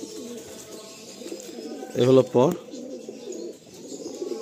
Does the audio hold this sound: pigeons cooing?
yes